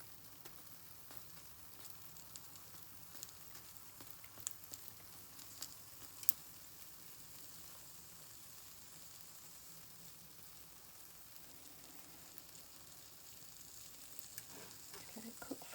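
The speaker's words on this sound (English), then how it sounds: "Let it cook for a few minutes on the side." A filled flatbread wrap with banana cooking in a pan, a faint steady sizzle with occasional soft pops and light scraping, heard quietly and without talk.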